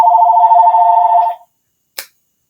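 A telephone rings in one loud continuous electronic burst that stops abruptly, followed by silence and a single brief click.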